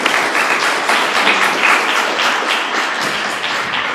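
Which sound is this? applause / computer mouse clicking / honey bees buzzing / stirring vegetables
applause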